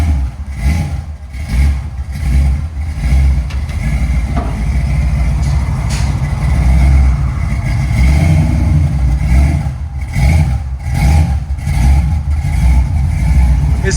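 1966 Chevy Chevelle SS with a 498 V8, headers and Flowmaster 40 Series mufflers, a deep, rumbling idle with loping pulses and occasional light blips of throttle, steady and close.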